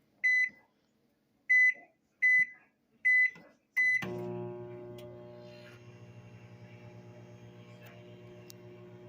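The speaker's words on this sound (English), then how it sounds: "we have a Hamilton Beach microwave." A Hamilton Beach microwave oven gives five sharp, evenly spaced beeps, then starts up with a steady electric hum that runs on to the end, close and clear with no voices.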